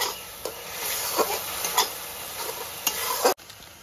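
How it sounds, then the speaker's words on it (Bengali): Spices sizzle and spatter in hot oil during cooking for chhola bhatura, a steady close frying hiss broken by sharp pops and stirring scrapes, with no talking. "মশলাটা খুব ছিটছে,"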